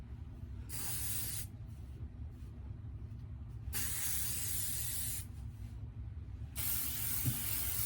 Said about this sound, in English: I have to put hairspray on my hair for it to stay behind my ear.